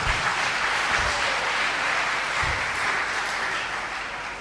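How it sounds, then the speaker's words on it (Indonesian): An audience claps in a hall during an Indonesian Qur'an recitation and stunting-prevention event, a broad, even roar of applause that holds steady throughout and fades slightly at the end, with no voices over it. "Tepuk tangan untuk kita semuanya."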